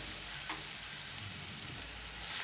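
Ginger garlic paste frying in a pan while making beef varattiyathu, a steady soft sizzle with light hiss and faint stirring scrapes, no talking.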